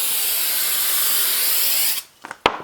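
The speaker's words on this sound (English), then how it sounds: "We spray this bottom tape with accelerant" Loud continuous hiss of accelerant sprayed from a bottle onto tape during a guitar build, lasting about two seconds, then a few short sharp spray bursts.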